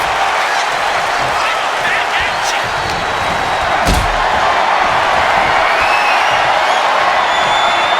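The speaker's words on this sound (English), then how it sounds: "as this battle rages on, the crowd can't help but show their appreciation" A wrestling arena crowd in WWE 2K26 roars and cheers loudly and continuously, with a sharp slam-like impact in the middle rising above the sustained noise.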